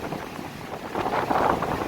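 Strong wind gusts across a lake beach, a broad continuous roar buffeting the microphone and swelling louder toward the end, with no voices.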